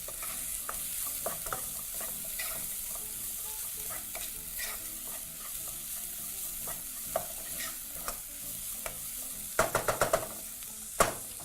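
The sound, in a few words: garlic and white onion frying in a pan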